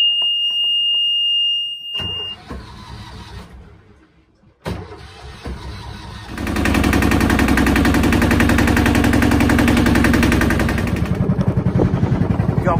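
A boat engine cranks with a clicking starter, catches after a pause, then settles into a loud, steady rattling diesel idle.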